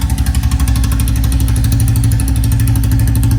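An old Royal Enfield Bullet idles loud and close, its single-cylinder engine thumping in a steady, even rhythm with no talk over it.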